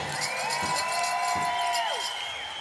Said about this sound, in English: let's get a big round of applause for the Jules family again